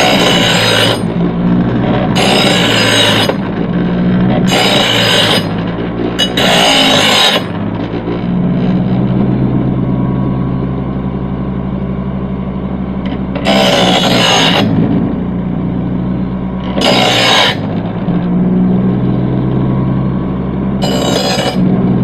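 Knife blades are drawn across a sharpening surface in short bursts of scraping strokes, loud and close, with pauses between passes over a steady background hum.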